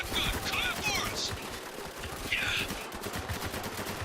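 Rapid gunfire from a Spec Ops: The Line firefight, steady dense bursts of shots running the whole time amid battle noise, with occasional shouted voices.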